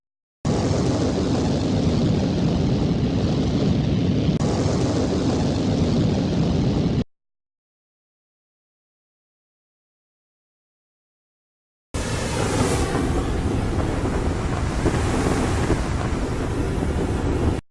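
Intense, roaring fire blasts layered for a jet pack effect: two loud sustained rushes of crackling, windy flame, the first lasting several seconds and the second following after a stretch of total silence.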